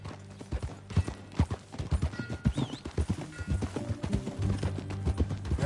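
Horse hooves clip-clop steadily in Red Dead Redemption 2, a brisk rhythmic patter of footfalls close by, mixed with game music and an occasional whinny.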